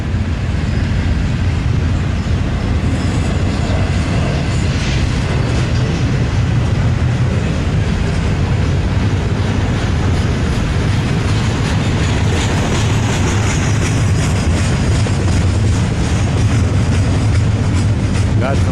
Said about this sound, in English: Notice how quiet the train is on the welded rail.